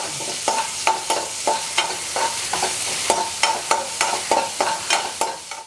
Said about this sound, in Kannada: ಈಗ ಈರುಳ್ಳಿ ಹಾಕ್ತಾಯಿದ್ದೀನಿ, ಬೆಳ್ಳುಳ್ಳಿ ಹಾಕ್ತಾಯಿದ್ದೀನಿ ಒಗ್ಗರಣೆಗೆ.